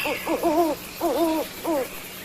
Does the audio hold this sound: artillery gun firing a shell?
no